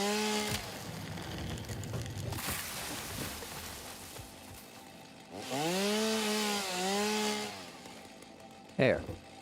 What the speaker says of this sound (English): But this one, chainsaw mode,